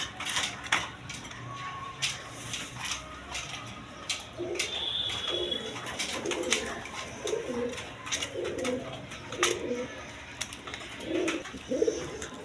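A pair of large Indian pigeons coo repeatedly in low, throaty bursts close by, with a steady rustle and scattered clicks in the background.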